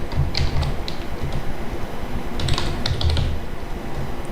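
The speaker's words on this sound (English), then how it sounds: "So we can type our code in the interactive mode." Python code is typed on a computer keyboard in brisk, irregular bursts of close, clacking keystrokes with brief pauses between runs.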